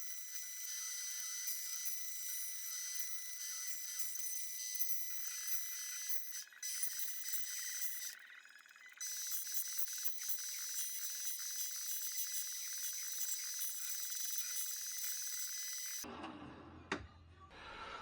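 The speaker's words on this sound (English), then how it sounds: "I'm just about to copy that onto a piece of aluminium and cut it out" A 3mm aluminium sheet is cut out to make a part for fitting a power steering cooler on a Nissan Z32 300ZX twin turbo, giving a loud, continuous, high-pitched cutting whine for about sixteen seconds with brief dips before it stops.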